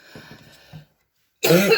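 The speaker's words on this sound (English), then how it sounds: "sorry for coughing, guys. My asthma's been horrible lately" A short run of coughs fades out, and after a pause a louder burst of harsh, throat-clearing coughs follows close to the microphone, with no talking.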